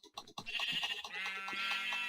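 A single Minecraft sheep bleats in a long, wavering cry, close and clear, with a few short clicks at the start.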